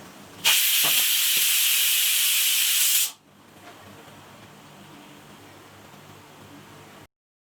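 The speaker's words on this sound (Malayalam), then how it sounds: "കുക്കർ മൂടിയതിന് ശേഷം ഒരു 3-4 വിസിൽ വരുമ്പോഴത്തേക്ക് നമുക്ക് സ്റ്റവ് ഓഫ് ചെയ്തിടാം" A pressure cooker cooking dal lets out a loud, steady hiss of steam for about three seconds, then cuts off sharply, leaving a faint low background rumble.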